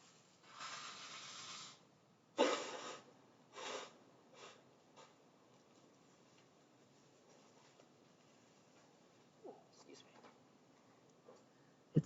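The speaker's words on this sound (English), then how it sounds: "Let me blow my nose for a second." Person blowing their nose during a computer science lecture, several close, breathy nasal bursts in a quiet room, the strongest coming early, followed by softer sniffs and small rustles.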